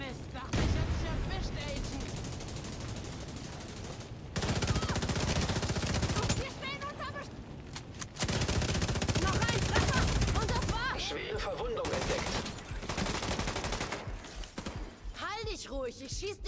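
Sustained bursts of automatic gunfire from the video game Division 2 come in long, dense stretches separated by brief pauses, loud and close, with occasional voices over the shooting.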